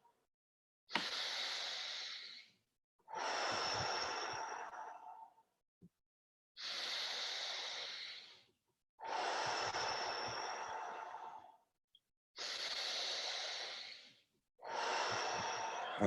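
Deep guided breaths during a breathwork session come in long, forceful cycles, six loud rushing inhales and exhales separated by brief silent pauses, close to the microphone with no talking.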